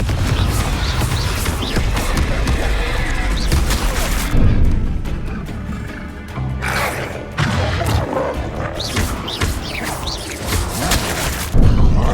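Repeated Confringo fire-spell blasts in the Hogwarts Legacy video game, loud booming explosions with crackling bursts over a dense, continuous wash of game combat noise.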